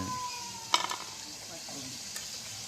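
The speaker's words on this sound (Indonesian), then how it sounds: "Nah, telurnya sedang digoreng." Eggs frying in a pan give off a soft, steady sizzle, with a brief clink of utensils against the pan partway through.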